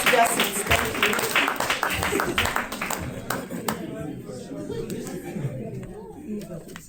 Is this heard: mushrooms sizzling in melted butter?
no